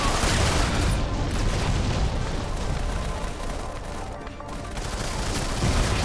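Dense, continuous gunfire and booming blasts from a mobile shooter game fill the clip loudly throughout, a steady barrage with no pauses and no talk over it.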